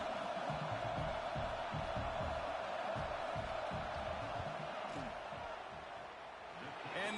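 Stadium crowd noise swells during a football field goal attempt, a steady wash of distant roaring and whooping from the stands that runs throughout, with a commentator speaking over it.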